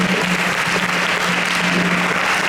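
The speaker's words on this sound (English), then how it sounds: "We can give them a huge round of applause." Applause from an audience at a Hare Krishna Sunday feast gathering, a dense, steady wash of clapping that stays loud and continuous for a few seconds with no talk over it.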